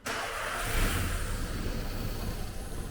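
Car engine cranking and catching unevenly after seven years unused, with fuel apparently running short. The motor churns loudly and roughly at close range for the whole stretch, with no talk over it.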